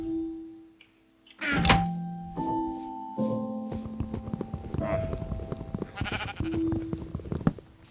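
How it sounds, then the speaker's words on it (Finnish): Sheep bleat repeatedly in the video game Minecraft, several clear digital bleats spaced across the clip alongside soft footstep-like thunks, with no one talking over them. "Lammas."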